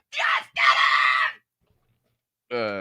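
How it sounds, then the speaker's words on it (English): A person screams in two loud, close bursts, with a short gap between them, then a brief shrill cry after a moment of silence. "you got to do the scream"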